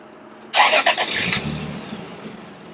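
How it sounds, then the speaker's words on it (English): A 1993 Toyota Supra Turbo twin-turbo engine cranks briefly and catches with a loud burst, then settles into a steady, slightly uneven idle heard up close outdoors. "I'm going to turn this car on while we're outside. I want to listen to how it sounds."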